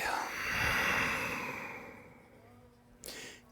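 A long, breathy exhale during a yoga session, loud at first and slowly tapering off, followed by a short, sharp intake of breath near the end.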